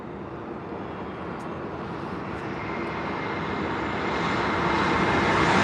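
Jet airliners arriving to land at San Diego airport at sunrise, a steady broad engine roar that slowly grows louder as the aircraft approach, with no talk.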